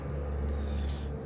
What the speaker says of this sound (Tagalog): Makalumang susi ng Pajero.